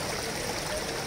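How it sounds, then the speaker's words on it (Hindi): Water flows along a mountain stream in the Solang Valley near Manali, a continuous soft rushing and trickling wash, fairly faint and unbroken, with no voices. "झीलों से बहते पानी की कलकल"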